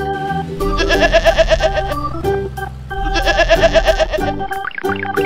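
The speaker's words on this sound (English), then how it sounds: "Sheep." Cartoonish bleats of a sheep, repeated in two bursts over a bright musical backing, loud and close.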